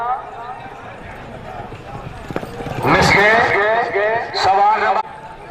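Horse galloping at a tent pegging (neza baazi) event in Kharian, Gujrat, a rapid drumming of hooves that surges louder midway among crowd noise, while a man announces over a loudspeaker.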